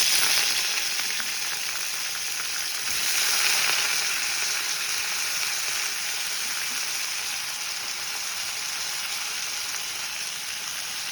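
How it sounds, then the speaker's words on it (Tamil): Raw banana slices fry in hot oil as chips, a loud, close, steady sizzle and crackle that holds evenly throughout with a slight swell near the start. "இப்போ இந்த எண்ணெயிலே வந்து அது நல்லா வறுந்துடும்."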